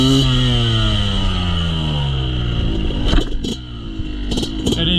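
A Yamaha YZ 125 two-stroke dirt bike idles and blips loud and close, its engine note sliding down as it brakes hard into a stoppie, with short clattering bursts near the end.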